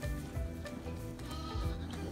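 A newborn lamb of a Welsh Mountain ewe and Texel ram bleats several times in quick succession, close and fairly loud, with no talk.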